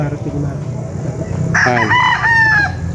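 A rooster crows once, loud and close, midway through, with other fowl clucking around it at a gamecock farm over a steady hum of outdoor background noise.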